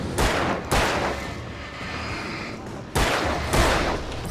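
Loud gunfire from the Alan Wake video game, with sharp bursts near the start and again toward the end, separated by a stretch of sustained noisy background.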